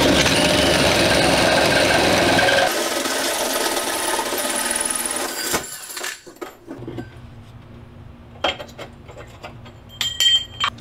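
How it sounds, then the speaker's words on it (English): A hole saw grinds and rasps steadily through a Jeep Grand Cherokee WJ's body near the fuel tank, loud and close, then cuts off, leaving a few faint clinks and handling noises. "with that hole drilled on the other side, I can line up perfectly right there and drill through"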